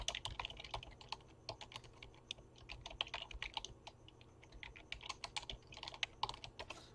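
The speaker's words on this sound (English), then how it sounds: "Can't type and talk at the same time." Rapid, steady clatter of a computer keyboard being typed on nearby during a live Q&A stream, continuous irregular keystrokes at low level with no speech.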